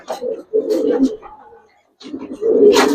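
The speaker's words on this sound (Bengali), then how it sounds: "3 পেয়ার কবুতর" Three pairs of Giribaz and coloured pigeons coo in low, close bursts that rise and fall, with a short quiet gap in the middle and people talking nearby.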